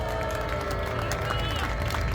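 An audience at a peace memorial cultural festival applauding a singer, a dense continuous wash of clapping with crowd noise and voices mixed in, loud and sustained.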